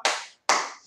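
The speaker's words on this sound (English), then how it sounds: "give yourself a champagne clap" Two sharp, loud bursts of an audience doing a celebratory champagne clap at a children's Deep and Wide song session, each a quick smack that fades away, with a brief gap between them.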